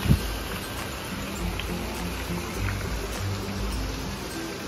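Strong, fast-flowing water rushes steadily at the Guci hot spring water park in Tegal, a dense continuous roar with no pauses.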